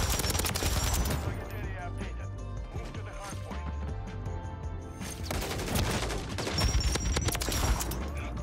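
Pulemyot 762 machine gun in MW3 firing sustained loud automatic bursts with a brief lull in the middle, then heavy rapid fire again, mixed with other game noise and a voice.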